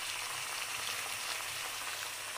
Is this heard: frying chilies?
yes